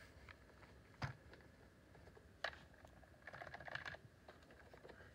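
Keys on a Microsoft computer keyboard click faintly and sparsely: a few separate taps, then a short quick run of keystrokes near the end, all quiet and close.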